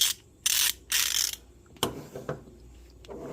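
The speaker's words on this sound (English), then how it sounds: "any of these ratchets with a thin back plate are going to be noisy." An SK 90-tooth ratchet from a Taiwan-made set clicks close up in short, dense bursts, followed by a few sharper isolated ticks and a lighter rattle.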